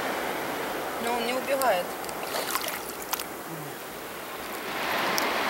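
Surf washing steadily onto Cansaulim beach in South Goa, India, a continuous broad wash of waves heard nearby, with people talking over it.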